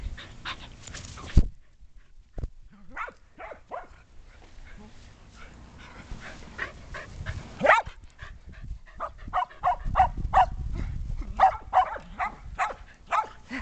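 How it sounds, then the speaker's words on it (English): Several young puppies venture out onto outdoor grass, making a steady run of short high yips, whimpers and panting that are moderately loud and close, with some faint human voices. "Come on out, little puppies."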